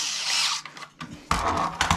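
A power screwdriver drives screws into the floppy drive carriage assembly of an Akai S2800 sampler, with short whirring bursts and a brief pause in between, close and fairly loud.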